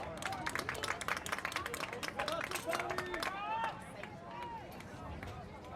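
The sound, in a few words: Stillwater fans applauding at high school soccer game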